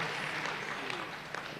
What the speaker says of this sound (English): you can applaud yourself for that